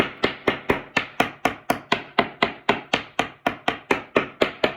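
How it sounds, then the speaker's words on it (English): A wooden floor is tapped to locate a joist, with about twenty crisp, evenly spaced knocks ringing out close and alone, each decaying quickly before the next. "Another way of finding the joist is by tapping."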